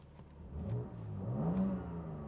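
BMW M4 engine with its sound control switched on, giving a steady mid-pitched hum that swells gradually into a low rising rev, heard close and alone.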